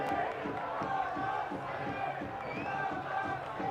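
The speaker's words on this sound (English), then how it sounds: "Crowd get behind their side." A football stadium crowd at a Detroit City FC versus Loudoun United FC match roars and chants steadily, a dense wall of voices with a commentator talking over it.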